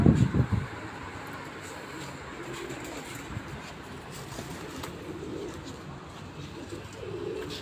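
Pigeons coo in low, soft, throaty bursts, with a muffled thump at the start and a steady background hum throughout.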